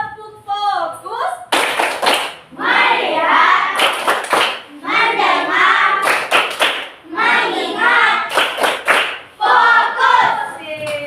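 A class of children in an Indonesian classroom performs a rhythmic 'tepuk fokus' clapping routine, loud bursts of patterned group claps in short phrases separated by brief pauses, with chanted voices mixed in.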